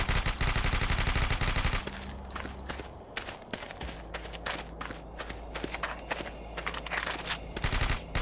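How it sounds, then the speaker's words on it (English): Rapid, continuous suppressed gunfire from the video game Lastworld, a quick repeating patter of muffled shots over a steady tonal game background. "There's also smoke emitted from the barrel with every shot instead of a muzzle flash,"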